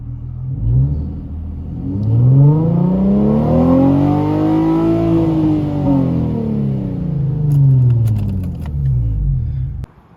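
An Infiniti G35 coupe engine revs up toward 7,000 RPM, its pitch climbing smoothly and loudly, holding near the top, then dropping back before rising once more and cutting off abruptly.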